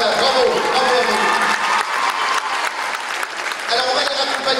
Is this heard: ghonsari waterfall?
no